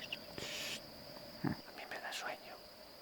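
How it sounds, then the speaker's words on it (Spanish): A steady high-pitched cricket chirp hums through a quiet outdoor scene near Aínsa, Spain, with a faint whisper-like voice and a few soft knocks. "Cucú. Pajaritos. Los grillos. Cencerritos."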